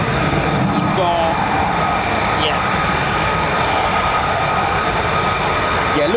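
US Air Force F-15 or F-35 fighter jet taxiing after a hot pit at RAF Lakenheath, a steady, continuous jet engine roar filling the air at moderate distance, with a person talking over it.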